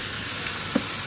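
Steady hiss of fish sizzling in hot oil, continuous and close, with a faint brief clink near the end.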